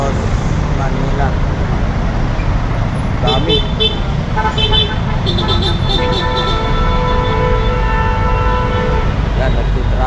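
Congested road traffic in Intramuros, Manila, a loud, constant rumble of engines with car horns tooting in short bursts, and a person speaking close by over the noise.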